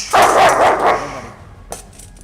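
An aggressive German Shepherd barks in a shelter-style setting, a burst of loud, close, harsh barks over about a second, then a short sharp yelp after a pause.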